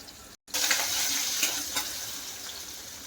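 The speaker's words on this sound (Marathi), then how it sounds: "आता आपण हिंग टाकूया।" Asafoetida hits hot oil in a pan of frying gawar (cluster bean) sabji, giving a steady close sizzle that surges after a brief silent break and holds loud for a few seconds, with no talking.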